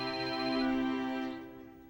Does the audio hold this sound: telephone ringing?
yes